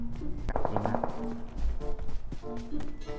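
Rapid bursts of automatic gunfire in PUBG Mobile crackle under excited voices, a quick string of close shots followed by scattered single reports.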